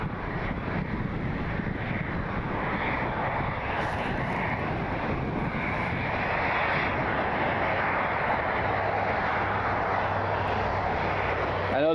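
A former Continental Airlines Boeing 737 takes off from runway 6 right, a loud, steady broadband jet roar with wind buffeting on the microphone, holding strong throughout and a low engine tone emerging near the end.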